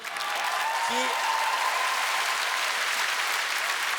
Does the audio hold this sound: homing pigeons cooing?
no